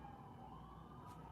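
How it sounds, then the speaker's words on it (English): Emergency vehicle sirens wail faintly from outside, a distant, steady tone in a quiet room with no speech. "sirens."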